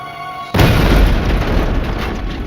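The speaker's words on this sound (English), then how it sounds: "The explosion was the most gruesome yet," A mail bomb hidden in a small parcel detonates with one sudden loud boom that cuts in abruptly, then a dense rumbling roar that slowly decays over the following seconds.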